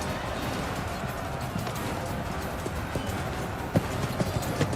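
Many horses galloping in the Blood of Steel video game, a dense continuous drumming of hooves across a battlefield, with a few sharper hoof strikes standing out near the end.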